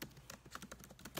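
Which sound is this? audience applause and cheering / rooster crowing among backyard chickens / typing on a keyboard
typing on a keyboard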